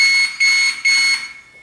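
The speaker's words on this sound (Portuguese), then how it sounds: "vai utilizar o sinal do bip, caso tenha" Three loud electronic beeps in a row from an assistant referee's electronic flag signal, each a steady high buzzing tone about a third of a second long, with the last fading away.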